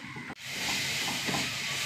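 Finely chopped onions sautéing in a pan give a steady, close hiss of sizzling that runs almost unbroken after a brief dip at the start.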